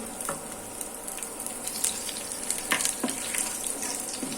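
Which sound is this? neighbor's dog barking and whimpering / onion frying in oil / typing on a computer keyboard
onion frying in oil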